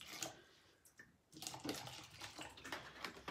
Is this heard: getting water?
yes